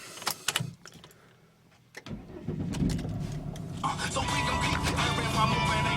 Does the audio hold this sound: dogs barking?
no